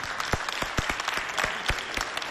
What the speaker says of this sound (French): applaudissez pour vous et pour nous tous